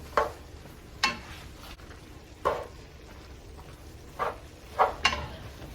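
Egg roll in a bowl mixture cooks down in a pan, with about half a dozen short, spaced scrapes and stirs of a utensil over a faint low background hiss, no talking.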